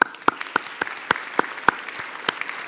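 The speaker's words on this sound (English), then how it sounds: "I think all of you deserve a round of applause." Sparse, scattered clapping from a small audience at a congressional art competition reception, individual claps ringing out fairly close in an uneven rhythm.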